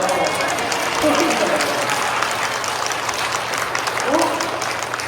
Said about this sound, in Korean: 아멘 박수 치고